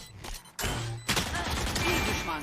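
Gunfire from the video game Valorant: a short loud burst of shots from a competitive match, with dense crackling impacts that carry on steadily through the rest of the moment.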